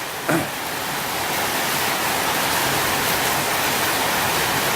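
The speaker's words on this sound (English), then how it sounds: "you can hear the rain in the background on the tin roof" Dense, steady rain hisses continuously, a broad wash of patter on a tin roof in Koh Samui, Thailand, with a brief knock at the start.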